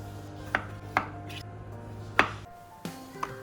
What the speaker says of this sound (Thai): เริ่มจากการหั่นแครอท มันฝรั่ง และฟักทองเป็นชิ้นขนาดพอดีค่ะ